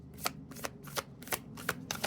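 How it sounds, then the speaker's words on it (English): A tarot card deck being shuffled close up, in quick bursts of riffling and flapping that repeat about six times at a steady rhythm, with no talk. "This deck, I tried to shuffle it and it was just flopping all over"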